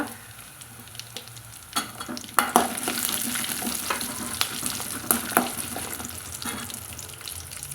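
Small shallots sautéing in a pan for curry leaf kuzhambu, a steady near sizzle broken by several sharp stirring scrapes and clinks, no talk.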